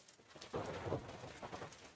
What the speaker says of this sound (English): I can just sit here all day long and watch it rain